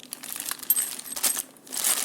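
Large metal mounting screws for a Schlage deadbolt lock clink and jingle close by as they are handled and shaken, with bright rattling bursts and no talking.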